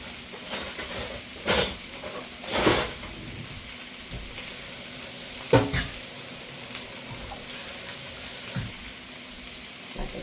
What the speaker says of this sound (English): you can see it's already come to a full boil